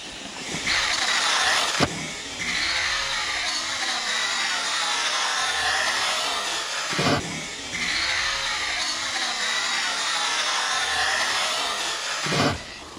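Arrma Typhon 6S RC car driving on a back track, a loud continuous high-pitched electric motor whine that surges at three points as throttle is applied.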